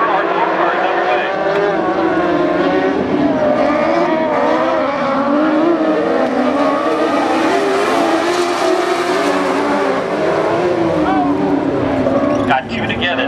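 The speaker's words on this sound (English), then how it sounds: "Heat race number one for our four cars underway." Dwarf cars roar around the track together in a heat race at Barona Speedway, a dense, steady engine drone with revving that stays loud throughout the clip.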